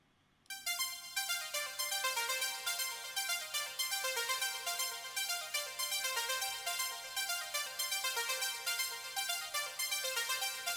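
Fast synthesizer sequence voice from a VCV Rack modular patch, running at double speed in random mode, rattles off rapid, bright, evenly pulsed notes, loud and alone after a brief quiet start.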